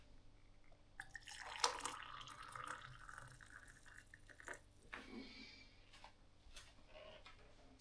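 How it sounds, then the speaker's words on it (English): Hot water pours faintly into a cup, a soft splashing trickle with a few light drips and clinks in a quiet room. "so we'll fill the cup up with water"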